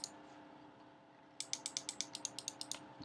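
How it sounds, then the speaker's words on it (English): Loud, crisp clicks from a Microsoft Comfort Mouse 6000 button, about ten sharp presses in a quick steady run after a quiet start, close and alone. "it does make quite a large audio noise when you click"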